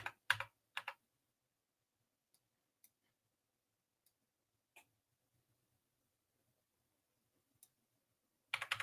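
A computer keyboard at a video-editing desk gives a short burst of close key clicks at the start, a few isolated faint taps through a quiet middle, and another quick flurry of clicks at the end.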